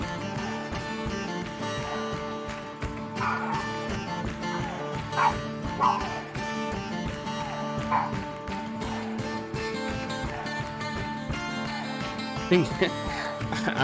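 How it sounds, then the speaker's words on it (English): Dogs bark and yip repeatedly in the background, with sharp intermittent barks and whimpers mixed under game music and someone talking. "I'm almost certain that that bark was picked up on my microphone."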